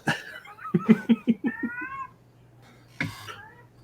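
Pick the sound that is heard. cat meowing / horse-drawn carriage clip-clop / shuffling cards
cat meowing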